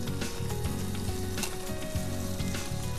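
Fish frying in a wok for Yangshuo beer fish sizzles loudly and steadily as seasonings go in, with quick rhythmic stirring scrapes, no voices.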